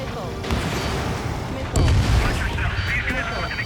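Missile launches and explosions during an aerial dogfight against bombers in the jet combat game Ace Combat 7: Skies Unknown, a dense barrage of booming bursts and blasts with a heavier impact midway, under radio chatter.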